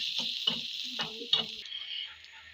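Bitter gourd frying with turmeric and salt in a pan, stirred with a few quick spatula scrapes over a soft sizzle that fades out after about a second and a half, close and quiet.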